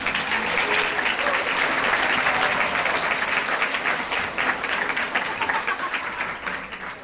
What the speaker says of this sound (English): you also deserve a big round of applause